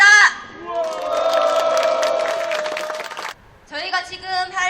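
Justice Party members at a protest rally against the Fukushima contaminated-water release, held in Gyeongnam, let out a loud, sustained collective shout lasting a few seconds, then a brief pause before a shorter burst of crowd shouting.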